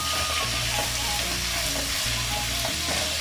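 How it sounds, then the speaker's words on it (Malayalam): Small onions sauteing in a pan for a beef roast, giving a steady close sizzle and frying hiss throughout with soft stirring scrapes, no voices. "ഇതൊന്ന് നന്നായിട്ട് വഴറ്റിയിട്ട് ഒരു ലൈറ്റ് ബ്രൗൺ നിറമാവുന്ന വരെ വഴറ്റിയെടുക്കണം കേട്ടോ"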